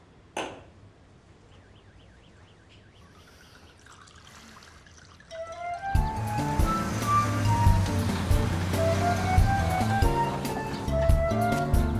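A drink is poured into glasses, starting with a faint clink and gentle trickle, then swelling into a louder, fuller splashing pour at close range.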